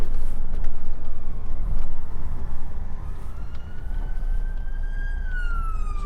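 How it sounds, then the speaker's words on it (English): An emergency vehicle siren on a city street near Waterloo Bridge, rising and falling then sweeping down in pitch, heard fairly distant over steady heavy traffic rumble. "Where's that siren coming from?"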